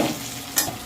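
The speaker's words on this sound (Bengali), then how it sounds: "এবার আমি তেলের মধ্যে আলুটাকে ভালো করে নাড়াচাড়া করে নিচ্ছি" Potato pieces frying in oil for a duck egg curry, stirred in the pan, giving a brief steady sizzle with a quick scraping stir in the middle and no voices.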